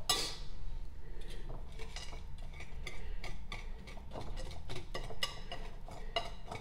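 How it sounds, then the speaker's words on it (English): A utensil stirs brownie batter of mix, water and oil in a bowl, giving quick, steady clinks and scrapes against the side in a close, repeated rhythm, with no one talking. "And now to blend everything together."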